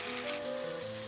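Flour-coated fish frying in a pan gives a steady, close, bright sizzle and crackle throughout, with no voices over it.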